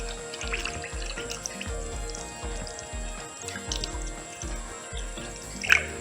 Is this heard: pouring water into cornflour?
yes